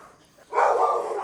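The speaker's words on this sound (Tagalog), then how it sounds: "Daming aso sa labas." Several dogs bark outdoors near the Kaybiang Tunnel during a motorcycle ride, a sudden burst of overlapping barking that swells in and stays loud after a quieter opening, heard at moderate distance.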